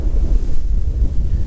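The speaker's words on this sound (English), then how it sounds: "And it is windy today." Wind gusts across the open lakeside at Lake Carlos State Park in Minnesota, buffeting the microphone with a loud, low, uneven rumble for a moment, with no voices.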